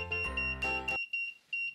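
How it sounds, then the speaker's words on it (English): A homemade laser tripwire security alarm built on a Launchpad microcontroller gives a louder burst and then a series of short, bright, high-pitched electronic beeps repeating at an uneven pace, with no voices. "anytime something crosses between the two of them and interrupts the laser, your alarm sounds"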